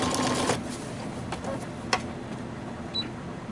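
A sewing machine stitches a bottom zipper onto a fur pillow, giving a soft, steady mechanical whir with a few faint clicks, fairly quiet and close.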